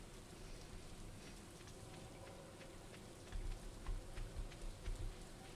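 Rain in the farming video game Stardew Valley falls as a soft, steady pattering hiss, with a few low thumping bumps toward the end and no talking.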